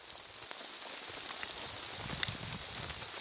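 Rain falls steadily on a woodland bushcraft camp with a teepee-style tent beside a river, a dense continuous patter of drops on surfaces, close and even, with one sharper drip standing out.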